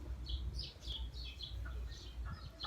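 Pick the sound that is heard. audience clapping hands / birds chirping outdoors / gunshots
birds chirping outdoors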